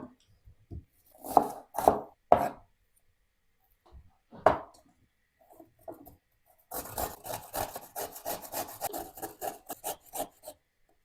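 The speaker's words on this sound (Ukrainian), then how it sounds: "Одну таку середню цибулину наріжу кубиком" A knife dicing a medium onion taps and scrapes on a cutting board, first a few scattered strokes, then a fast, steady run of chopping.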